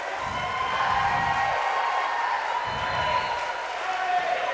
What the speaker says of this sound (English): you could really just hear that crowd clapping for her